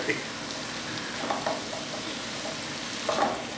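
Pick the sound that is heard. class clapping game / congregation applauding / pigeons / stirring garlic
stirring garlic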